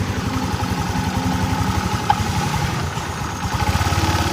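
A used motorcycle's engine idling, with a steady, fairly loud putter and a brief click partway through, and no talking.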